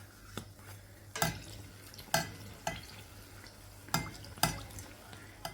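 Mangalore banana buns frying in oil over a medium-low flame and being flipped, with sharp utensil clinks at irregular intervals over a faint, low bubbling of the oil.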